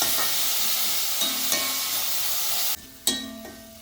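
Salted onions sautéing in a pan for a coconut-milk egg curry give a continuous loud hiss and sizzle with a few spatula taps. Near the end the sizzle cuts off abruptly, followed by one sharp clack and a fading hiss.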